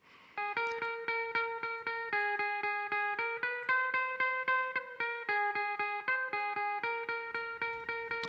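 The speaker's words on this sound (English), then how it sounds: "And then with the condenser microphone on top," Guitar picked through a condenser microphone placed on top: a long, steady stream of fast, bright plucked notes with shifting pitches, close and loud with nothing else over it.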